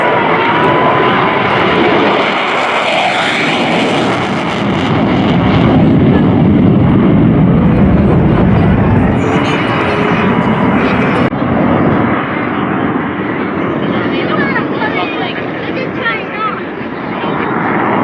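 F/A-18F Super Hornet jet at an air national guard open house airshow, a loud continuous roar of jet engine noise filling the whole span, swelling slightly midway and fading a little near the end.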